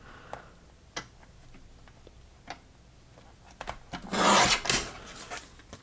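Scissors trim the white border of a paper craft piece, giving a few sparse clicks and snips, then a louder close rasping cut near the end, with no talking.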